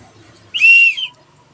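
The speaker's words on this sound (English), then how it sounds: "We have a whistle." A survival whistle from an everyday-carry kit gives one loud, shrill, steady blast of about half a second, close to the listener, with near silence before and after.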